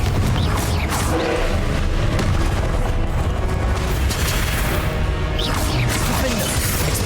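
Confringo blasting spells in the video game Hogwarts Legacy make loud, sustained rumbling explosions and crashing impacts that roll on without pause.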